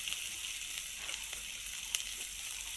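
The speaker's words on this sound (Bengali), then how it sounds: "পেঁয়াজ কুচি দিলাম, সাথে কাঁচা লঙ্কা," Chopped onion and green chilli frying in a pan, a soft continuous sizzle with faint stirring ticks, close and steady with no voices.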